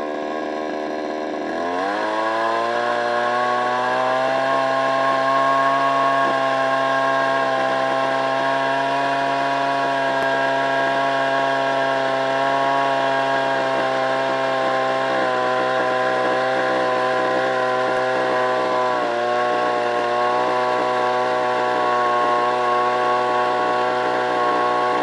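A Salem Master chainsaw revs up from a start and then drones steadily at high speed cutting a wood log, loud and close, with slight dips in pitch as the chain bites.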